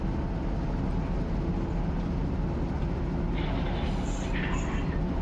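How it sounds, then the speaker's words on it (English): Freight train cars push up against the locomotive in the RUN8 train simulator, a loud continuous heavy rumble throughout, with faint higher creaking near the end. "the weight of the train's hitting up against me. I can hear it."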